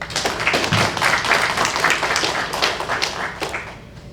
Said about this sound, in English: So I ask that you give them a round of applause